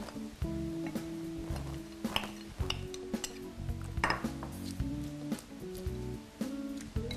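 Chopsticks stirring soaked lotus root strips in a bowl, a quiet, steady clinking and scraping against the dish with soft music in the background and no talk.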